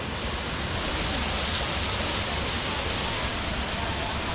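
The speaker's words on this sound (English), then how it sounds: "Waterfalls are spraying." Waterfalls spray at a waterfall park in Chiang Mai, making a steady, close rushing roar of falling water that holds constant throughout.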